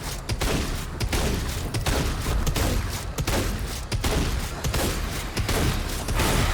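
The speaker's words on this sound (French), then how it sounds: "Je suis en train de vider mes munitions en réalité." Weapons fire continuously in DOOM The Dark Ages as ammo is emptied, making dense rapid shots in a loud, unbroken barrage over a heavy game soundscape.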